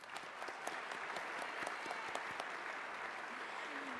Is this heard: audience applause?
yes